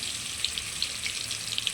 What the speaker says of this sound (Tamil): ஒரு உருண்டை எடுத்து அதை நம்ம மாவில் முக்கி எடுக்க வேண்டியதான். எடுத்து எண்ணெயில் போடுவோம்.